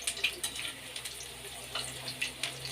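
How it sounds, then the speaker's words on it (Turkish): Steady crackling sizzle of börek frying in hot oil, with small pops and bubbling throughout, close and moderately loud. "Böreğimde narlar gibi kızarıyor, narlar gibi"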